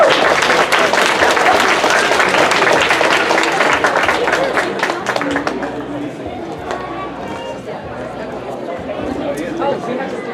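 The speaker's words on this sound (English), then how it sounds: "Round of applause for Daisy." Audience applause for a student at a class presentation, a loud burst of clapping with some chatter that fades after several seconds into quieter murmuring.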